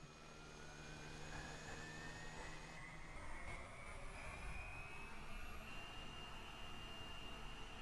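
A jet engine in the flight game SimplePlanes, on a VTOL aircraft, throttles up, its steady roar rising as a high whine climbs in pitch across the clip, with no one talking over it.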